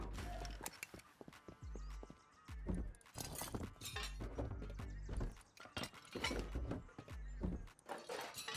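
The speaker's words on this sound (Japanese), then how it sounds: "めっちゃ狼の足音するやん。" Wolf footsteps in the Rust video game: a fast run of heavy thudding paw falls in bursts with brief pauses, loud and close, over a low background.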